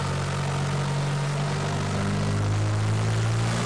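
Truck engine pulling hard through the gears in third gear, a loud, close, steady low drone whose pitch climbs gradually near the end, with no speech.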